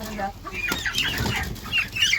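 Young broiler chickens clucking and cheeping close by, a busy series of short calls with some wing flutter, and a person's voice mixed in.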